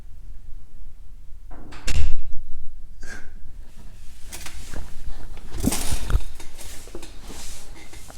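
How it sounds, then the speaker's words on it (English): A door is shut hard in a house early in the morning, giving a loud thump near the start, followed by quieter rustling and knocking sounds with some faint breathing. "Shut the door, please."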